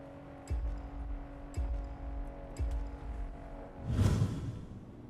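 A car in the MR:T racing video game accelerates on the Fujigawa canyon run, with three punchy engine surges about a second apart over a steady drone, then a rushing whoosh near the end.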